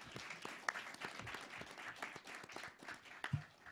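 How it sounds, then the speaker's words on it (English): An audience applauds panelists at a conference panel, a steady wash of many hands clapping at moderate distance for a few seconds. "Let's give a round of applause to our panelists."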